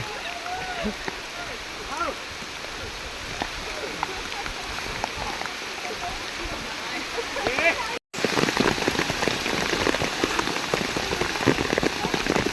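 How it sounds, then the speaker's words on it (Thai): Heavy rain pours steadily in a forest, dense patter of drops hitting leaves and ground, continuous and close, with a brief dropout partway through. "ฝนตกหนักนะครับ"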